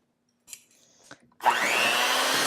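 An electric mixer whips cream with a tablespoon of granulated sugar. After a few small clinks, it starts up and runs as a loud, steady whir close by, with no talk.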